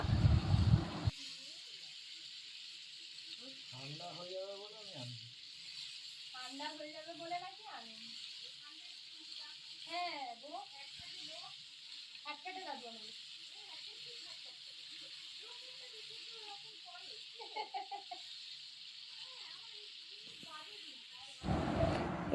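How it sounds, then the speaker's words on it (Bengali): Chicken pieces fry in butter in a pan, giving a steady, even sizzling hiss that runs throughout as someone talks over it, with brief louder bursts at the start and end. "বাটার দিয়ে প্রথম আগে যেগুলো ম্যারিনেট করা ছিল না, ওগুলো দেখো পরপর দিয়ে একটু ভেজে নেবে"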